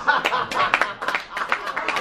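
A comedy show audience gives a short burst of clapping, a few separate claps spread over two seconds, with faint chuckles and murmuring mixed in.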